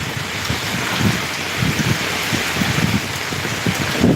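Steady, dense rain pours down in Dhotian village, a loud close hiss of drops hitting surfaces with no break for the whole stretch.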